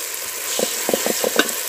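Ginger-garlic paste sautés in a hot pan for chicken gravy, a steady sizzle broken by several short scraping stirs of a spoon, close and fairly loud with no talking.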